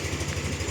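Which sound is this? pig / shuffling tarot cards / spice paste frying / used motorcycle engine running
used motorcycle engine running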